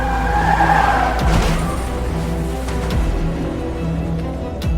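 A bus on a hill road in a 3D animated cartoon halts suddenly with a loud screech of skidding tires, then settles into a low engine rumble with a few faint knocks.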